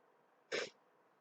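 A single short sneeze, close and sudden, bursts out against a quiet room.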